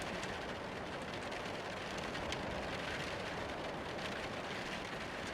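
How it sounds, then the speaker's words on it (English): Steady rain patters against a window as wind gusts on a dark autumn night, a dense, even hiss of drops that runs unbroken and fairly loud. "the rain continues to tap at your window and the gusts of wind blow through the darkness"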